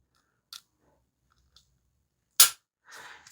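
A Smith & Wesson M&P 2.0 pistol with its standard flat-faced trigger gives one loud, crisp, sharp click as the trigger breaks. A few faint small clicks come before it and a short rustling handling noise follows.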